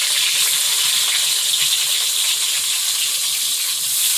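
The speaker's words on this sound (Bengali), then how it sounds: "আমি এদিকে বেগুনটা এবারে ভাজবো।" Sliced brinjal fries in hot oil with a loud, steady, close-up sizzle that crackles continuously without pause.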